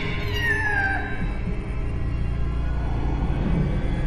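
A cat in a Hindi horror story gives one drawn-out, falling meow near the start. It then fades into a low, steady rumbling ambience, with no voices.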